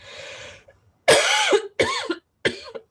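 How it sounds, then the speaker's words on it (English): Three harsh, loud coughs come close together, following a brief muffled breath. "Hideous cough."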